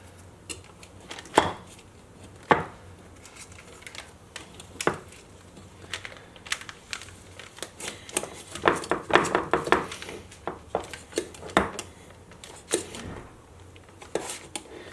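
A knife is run around the outside of parchment paper lining a cheesecake in an Instant Pot insert pan, making irregular close scraping and tapping clicks against the metal rim, with brief quiet gaps between strokes.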